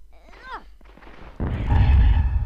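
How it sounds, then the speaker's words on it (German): A cluster grenade explodes in the video game Frontschweine, a sudden loud booming burst that swells and rumbles on after a lighter stretch of game sound with a short voice-like sweep. "wir machen es ganz stylisch mit einer Clustergranate."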